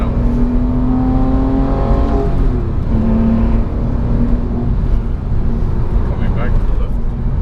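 A Porsche 911 (997) Carrera with a six-speed manual revs up hard in second gear, its engine note climbing, dropping and climbing again at close range, while a voice talks over it.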